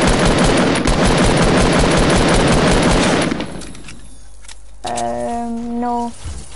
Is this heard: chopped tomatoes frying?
no